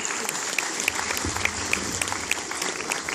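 Audience applause at a Star Wars fan event in Argentina, a steady wash of clapping with sharp individual claps standing out, continuous and fairly close for the whole stretch.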